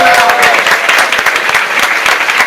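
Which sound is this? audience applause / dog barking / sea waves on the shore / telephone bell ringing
audience applause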